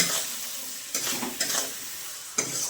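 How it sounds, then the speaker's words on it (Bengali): Ginger-garlic paste with chili powder sautéing in a pan, a quiet steady sizzle broken by three brief scraping stirs of a spoon, close up, no one speaking. "আদা রসুনের কাঁচা গন্ধটা যাওয়া অবধি কষে নেব"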